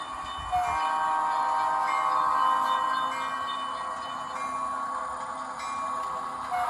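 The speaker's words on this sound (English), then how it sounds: "And we have a train coming." A model train runs past a railroad crossing, giving a steady mechanical hum and whine with tonal horn-like warning sounds, fairly close and continuous with no talk.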